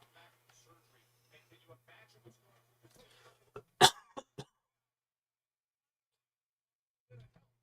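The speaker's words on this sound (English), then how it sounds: "the worst part is it's a dry cough now" A dry, painful cough from a person on a livestream, a short burst of two or three harsh coughs following quiet murmuring talk, then a faint throat sound near the end.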